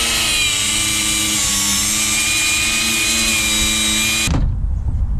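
A power cutting tool whines loud and close through a PTFE fuel hose for AN fittings, holding a steady tone for about four seconds before stopping abruptly.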